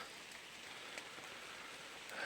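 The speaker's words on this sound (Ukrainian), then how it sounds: "Дощик перепадає." Light rain patters steadily through a wet autumn forest, a soft even hiss of drops on leaves with a few slightly louder drips, faint and without voices.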